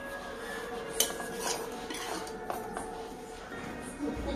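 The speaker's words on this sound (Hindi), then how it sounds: "कढ़ाई से हमने थाली में निकाल लिया है" Cooked lauki barfi made with ghee and milk is scraped from a wok onto a ghee-greased plate, soft metallic clinks and scraping of a spoon against metal, close and fairly quiet.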